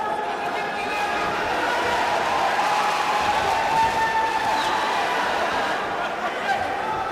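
A local crowd at a World Series of Boxing bout between the Indian Tigers and Astana Arlans cheers on boxer Sanjeet in a steady wash of applause and crowd noise, with a commentator talking over it throughout.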